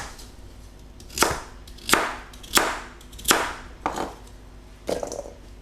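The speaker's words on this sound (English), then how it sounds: "Now into that, going to cut the carrots." Carrots are cut on a board with six sharp, fairly evenly spaced knife chops, close and clear against a quiet background.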